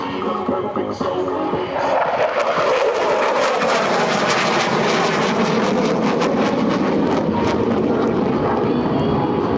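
An F-16C Fighting Falcon jet at an air show demonstration thunders overhead in a sustained, loud, rumbling roar that swells over several seconds and holds steady.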